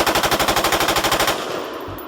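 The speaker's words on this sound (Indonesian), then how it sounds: "Wow, ternyata ada tembak M4." Toy M4 rifle sound effect firing a rapid, steady burst of about twenty electronic shots for over a second, loud and alone, then cutting off into a faint hiss.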